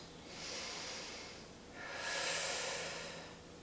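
Close, airy breathing during a stretch and strength workout: a softer breath followed by a stronger, longer exhale, each lasting over a second, with no talking.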